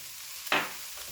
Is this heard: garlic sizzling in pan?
yes